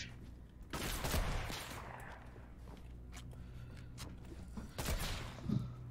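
Sniper rifle shots in a shooting video game, a few sharp bursts spaced apart over a low background hum, with faint movement sounds between them.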